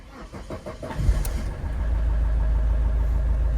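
An Opel Astra H with a Z19DT diesel engine cranks with the key for about a second, then catches and settles into a steady, rumbling idle close by.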